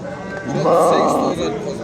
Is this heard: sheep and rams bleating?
yes